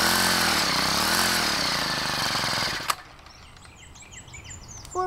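Small lawn mower engine running loud and rough after a cold start, its uneven revving filling the first few seconds before it cuts off abruptly, leaving quiet outdoor background with birdsong and a faint knock at the end.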